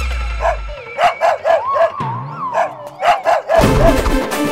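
A dog barks repeatedly in a comedy scene, a quick run of sharp yips and barks with short howling, whimpering notes between them, close and loud over music.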